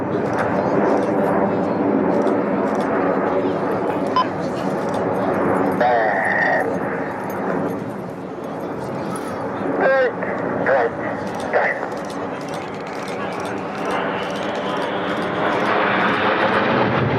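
RAF Red Arrows jets flying their 60th anniversary display at Sywell Airshow 2024 at over 450 miles per hour, a sustained loud roar of jet engines that rises and shifts as they pass, under a public-address commentator.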